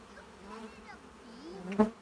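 Honey bees buzzing around an open hive during an inspection, a steady wavering hum with individual bees drifting close, swelling into a brief louder buzz near the end.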